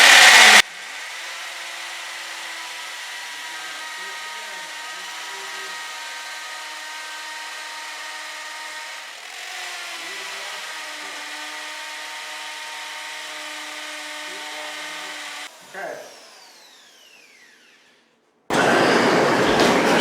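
A 12-inch drill bores at an angle into concrete for crack repair, a steady sustained whine with a low hum running for about fifteen seconds before it winds down and stops.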